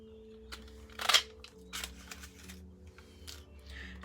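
Scissors snip through light blue cardstock to trim leaf shapes, a few quiet crisp cuts with soft paper rustling in a calm room.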